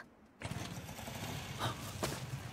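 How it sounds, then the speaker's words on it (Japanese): A vehicle engine drones at a distance, rising from quiet into a steady, rough hum as it approaches, faint and without voices. "エンジンの音がするよ"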